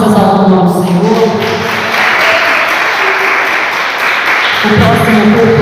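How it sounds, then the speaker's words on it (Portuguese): A church congregation applauds loudly during a service, a continuous roar of clapping heard close. A voice and tonal sound carry over it throughout. "as palmas exaltam o nome do Senhor"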